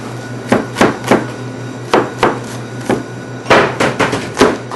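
A knife chops an onion on a cutting board: sharp, close knocks in short irregular bursts of two to four strokes with brief pauses between, and no talking.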